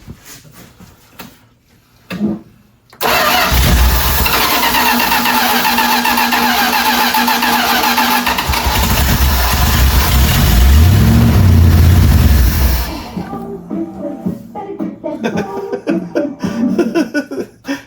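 A 1978 Dodge D150 pickup that sat for 20 years cranks briefly, then catches and runs loudly, with a rough rising rev before settling and cutting off; brief voices are heard before and after.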